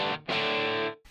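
A distorted electric guitar tone through a Line 6 Helix processor: one quick stab, then a loud sustained chord that rings for most of a second before it is cut off.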